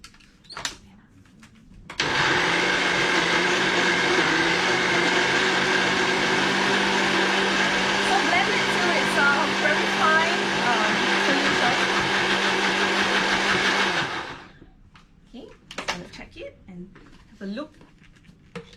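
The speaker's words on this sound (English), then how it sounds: "I'm now going to put it into the blender." Countertop blender whirring through banana oatmeal pancake batter, a loud steady motor roar that starts abruptly, runs for about twelve seconds and cuts off, with faint clatter before and after.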